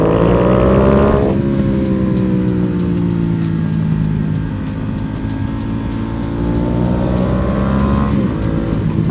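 Ducati Diavel 1260 motorcycle engine droning steadily during a ride, a loud continuous motor note with a gear shift near the start and another near the end, no talking.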